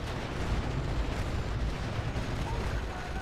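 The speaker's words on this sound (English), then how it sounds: "So now we're just exchanging fire." Gunfire and artillery trade in the World War II strategy game Steel Division, an FT-17 cannon, an 88 and mortars among the guns, forming a dense, continuous rumble of blasts and shots without distinct individual reports.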